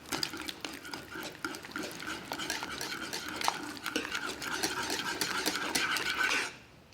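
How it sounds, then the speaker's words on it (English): A whisk beats custard with vanilla paste in a bowl, rapid rhythmic clinking and stirring at close range, fairly quiet, stopping abruptly at the end with no talking. "So I want to just whisk it so well that it emulsifies really nicely."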